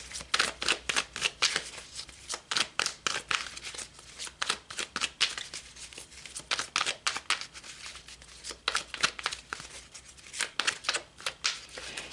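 Tarot cards shuffled by hand, a steady run of quick crisp riffling bursts with short pauses between, close and clear with no talking.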